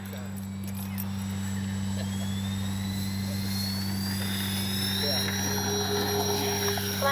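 Steady droning engine and propeller whine from an RC model OV-10 Bronco plane taking off with flaps down, held at a constant loud level with a tone that slowly rises as it climbs away.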